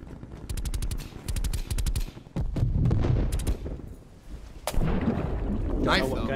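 Gunfire from a three-round burst weapon in a video game, rapid clusters of sharp shots repeating in quick succession, mixed with game explosions and a loud background bed, with players talking over it.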